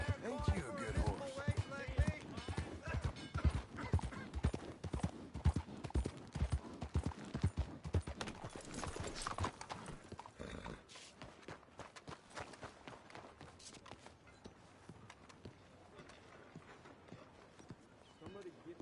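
Horse hooves clip-clopping in the game Red Dead Redemption 2, a rapid rhythmic run of hoof beats that is strong at first and then fades to quieter scattered steps, with a voice talking over it.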